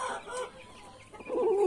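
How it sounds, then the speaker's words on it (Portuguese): A hen clucks close by alongside her chicks as they prepare for a dust bath, with short clucks early on and a louder, rising call toward the end. "E a galinha também já vai tomar um banho de areia ali com os pintinhos dela."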